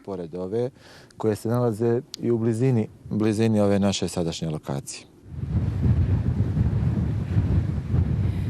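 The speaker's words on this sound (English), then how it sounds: "The winds are strong here, and they blow all year round." Strong wind at a wind farm site in Bosnia-Herzegovina follows a stretch of someone talking. It is a loud, steady, rushing roar buffeting the microphone with gusty texture.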